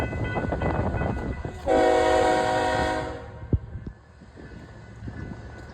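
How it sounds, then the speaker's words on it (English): A BNSF mixed freight train moves through Schriever Yard, heard from a distance as a low rumble, with a loud steady horn blast lasting about a second and a half, then a sharp clank as the rumble fades. "we see a BNSF mixed freight in Schriever Yard going to the main line to request permission to get on"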